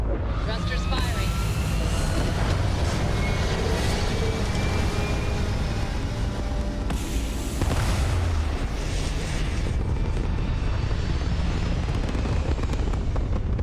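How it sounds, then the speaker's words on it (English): Spaceship thrusters roar at liftoff in the game Starfield, a loud, continuous low rumble that holds steady for the whole stretch, with a brighter surge partway through, while a synthetic voice talks over it. "Lifting off right away, or do you need a little bit of time? Thrusters firing."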